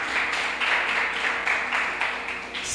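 A church congregation claps for Laila, a steady wash of many hands applauding together, fairly close and continuous with slight surges, no voices over it.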